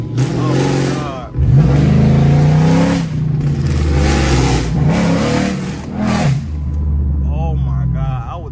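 An SRT car's engine revs and accelerates loudly from inside the cabin, rising and falling in pitch under excited talking.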